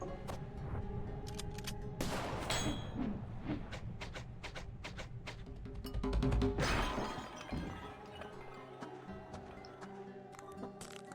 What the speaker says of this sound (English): Alright, now we shoot the mirror.